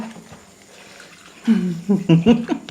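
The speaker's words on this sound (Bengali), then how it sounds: "জল ঢেলে দিলাম ওই জন্য" Water poured into a bowl to wash it: a quiet stretch with faint talk, then a close burst of splashing and gurgling pouring with several uneven surges.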